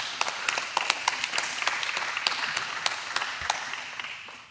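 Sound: church congregation applauding

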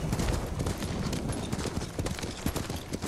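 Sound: horse hooves clip-clopping in video game Ghost of Tsushima

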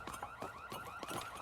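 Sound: car alarm going off in a video game

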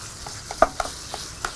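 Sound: stir-frying meat with fragrant shallots in a pan

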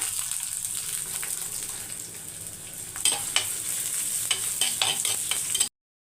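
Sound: onion, fennel, curry leaves, green chilli frying in hot oil

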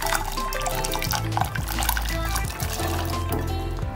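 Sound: sweet corn boiling in water

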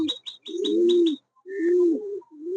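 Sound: pigeons cooing

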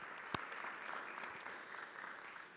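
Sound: applause at a city council meeting

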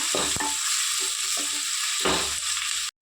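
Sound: frying green chillies and onions in a pan

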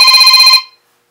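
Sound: mobile phone ringing

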